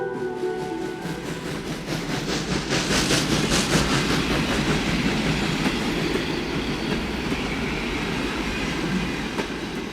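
A train sound effect at a small railway depot in a radio drama: a loud, continuous rolling rumble with rhythmic clickety-clack and occasional wheel squeal, unbroken by any voices.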